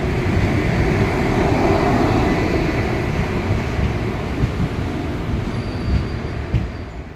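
A Panvel–Nanded train rumbles heavily past up close arriving at a station, a loud continuous roar of wheels on rails with a faint squeal as it eases along.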